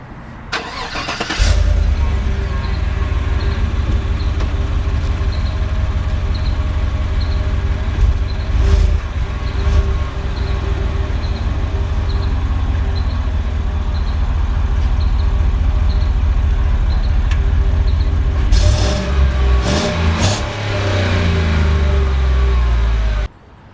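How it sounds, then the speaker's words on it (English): A 2016 GMC Yukon Denali cold-starts with a sharp crank, then its engine settles into a loud, steady idle close by, with occasional revs swelling near the end before it cuts off. "I couldn't bring this truck to you without giving you a cold start"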